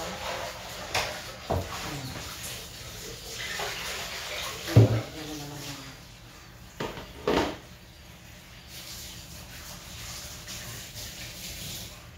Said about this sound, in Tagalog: Hugasan natin ito